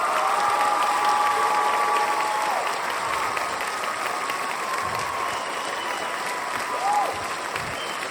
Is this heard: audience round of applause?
yes